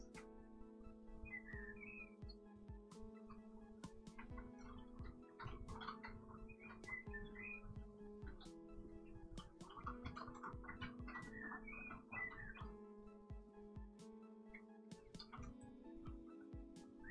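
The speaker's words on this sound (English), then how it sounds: "I like the bird song outside." Birds chirp and whistle outdoors at a distance, scattered short calls repeating over a steady low indoor hum, faint but continuous throughout.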